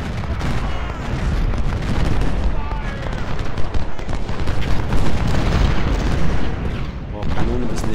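Cannon and artillery fire in a Civil War strategy video game, the Battle of Fredericksburg, as a continuous dense roar of booms and distant gunfire, loud throughout.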